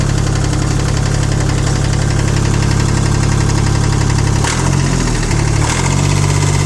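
A small three-cylinder engine on a Kubota L120 mini tractor idles steadily and loudly up close, with a brief dip and change in tone partway through.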